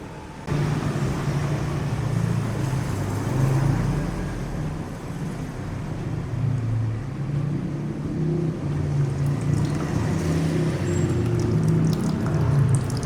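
Old green coolant drains from the radiator of a Yamaha R25 motorcycle in a continuous, fairly loud rushing pour that holds steady from start to finish.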